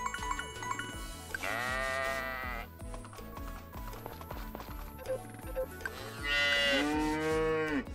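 Cows moo in the farming video game Story of Seasons, two long drawn-out lowing calls rising over a steady, busy background of game music and farm sounds.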